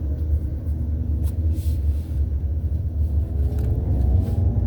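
A Kawasaki ZX motorcycle passes on a winding mountain road, a steady low rumble of engine and road noise holding throughout with no clear peak, heard from another bike nearby.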